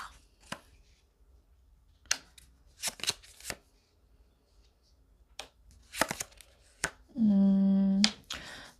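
Tarot cards being shuffled in a series of quick riffles and snaps, close and crisp with short pauses between bursts, followed by a brief tonal hum near the end.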